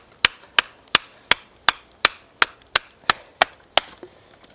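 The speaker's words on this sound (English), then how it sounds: "we're going to go ahead and try some batoning with the TOPS knife here" A TOPS full-tang knife with a Scandi grind is batoned through wood, giving about a dozen sharp, evenly spaced chopping thwacks, loud and close with nothing else heard.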